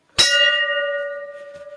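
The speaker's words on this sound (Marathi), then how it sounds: "आपण घंटा वाजूया।" A temple bell is struck once during a Krishna Janmashtami visit, giving a loud metallic clang followed by a long, clear ringing tone that slowly fades, heard alone and close by.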